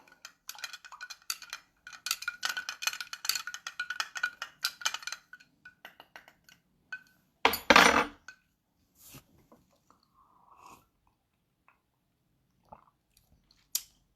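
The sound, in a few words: mixing an old fashioned cocktail with orange bitters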